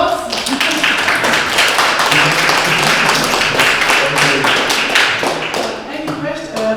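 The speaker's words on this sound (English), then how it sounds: "can you hear the applause?" Audience applause fills a conference hall after a talk on creating communities for growth, a dense, steady wash of many hands clapping close and loud throughout.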